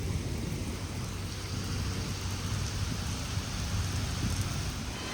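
Heavy, nonstop rain pours down over a village, a dense steady roar of downpour with low rumbling undertones throughout and no voices.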